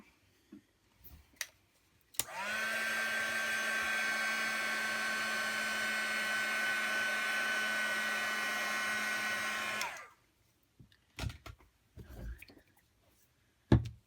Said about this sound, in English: So I'm just going to heat set that a little bit.